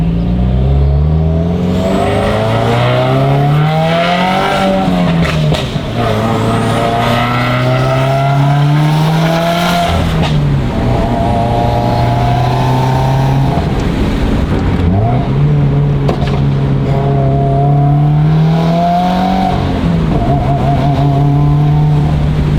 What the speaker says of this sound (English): Just listen to how beautiful this flat 4 sounds.